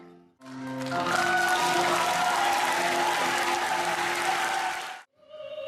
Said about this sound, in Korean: 열창에 감동한 관객들은 박수를 보냅니다.